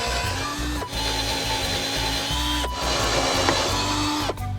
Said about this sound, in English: Next, we take a nice board and drill many holes in